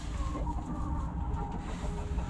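Hen in a farmyard coop, broody and settling over two goose eggs, giving soft continuous clucks and low murmurs at close range amid steady background farm noise.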